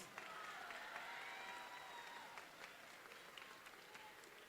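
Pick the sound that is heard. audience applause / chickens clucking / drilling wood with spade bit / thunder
audience applause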